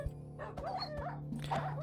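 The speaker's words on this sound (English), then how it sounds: "Dogs." Dogs in the video game Minecraft give quick, high yips and short barks in a rapid, yappy run over a steady low background hum. The sound is faint and has no talking.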